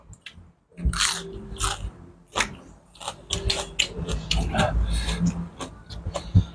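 Loud, close crunching and chewing of spicy Thai seafood papaya salad with fresh vegetables, irregular bites and squishy mastication continuing throughout, with some speech mixed in.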